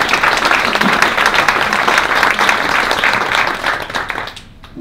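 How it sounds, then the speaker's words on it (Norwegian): Sustained applause fills a staff all-hands meeting on a regional reform, a roomful of hands clapping steadily at close range before thinning out and fading near the end. "Jeg synes jeg skal gi en applaus til dem til deg."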